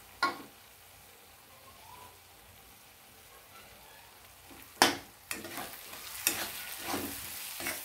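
Ground spices and masala roasting in a pan for a dry brinjal and prawn dish, with a steady low frying hiss broken by several sharp stirring scrapes and clatters in the second half.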